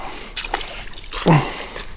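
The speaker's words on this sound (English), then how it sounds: "Sarah, you ready for your water crossing?" Water sloshes and splashes briefly as someone in boots steps through a shallow, cold stream at Mike Roess Gold Head Branch State Park, Florida, with a faint voice nearby.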